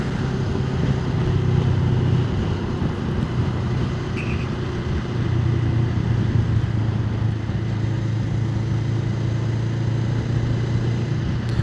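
A motorcycle rides in heavy traffic, slowing down from fifth gear, with a close, steady engine hum and road roar that dips in pitch and then settles again, while surrounding traffic noise hangs in the background.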